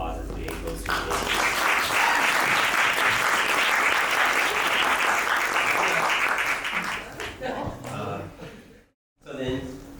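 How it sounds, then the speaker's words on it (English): An audience at a live movement and dance performance breaks into a full round of applause. The dense clapping swells quickly, holds strong for several seconds, then thins and trails off near the end. "give them a round of applause as they go through this"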